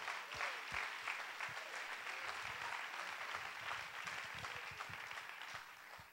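A church congregation applauds at a revival service, a dense, steady wash of many hands clapping that carries on for several seconds before easing slightly.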